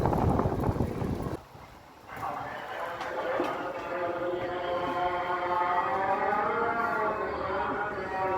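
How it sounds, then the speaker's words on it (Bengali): A Fajr call to prayer at dawn near the Kuakata bus stand, heard as a long, sustained, wavering chanted voice carrying through the air after a moment of talking at the start. "এখন হচ্ছে আজান দিছে ফজরের"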